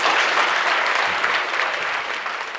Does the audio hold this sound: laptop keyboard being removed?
no